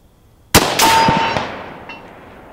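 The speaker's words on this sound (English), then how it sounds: "So let's start off with a 200-yard shot." A single sharp rifle shot fired at a 200-yard target, a loud close crack with a short ringing tail and a faint distant echo fading afterward.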